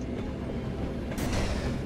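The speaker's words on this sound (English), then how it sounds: "I hear a train." A train passes in the video game Apocrypha, a low continuous rumble with a rushing hiss that swells briefly near the end, heard alone without talking.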